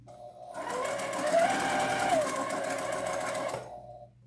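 A sewing machine stitches fabric while a flamingo wreath attachment is sewn, running as one steady, continuous whir for about three seconds, near and clear, starting and stopping abruptly.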